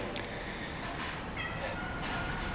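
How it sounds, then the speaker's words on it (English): A cat meows faintly in a garage setting, a couple of brief cries over low background hiss during work on a car engine with a tapping timing belt. "there's kitty"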